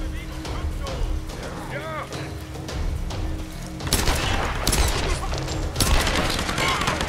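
Gunfire in the Tomb Raider video game, including a headshot, comes as loud, dense bursts of shots and impacts that swell in the second half, over steady game noise, with a voice talking throughout.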